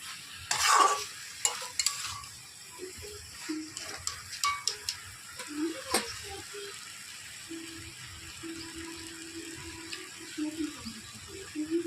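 Kalmi shaak (water spinach) greens frying with bori in a pan: a soft sizzle is broken by intermittent scraping and clattering stirs, and a voice speaks quietly underneath.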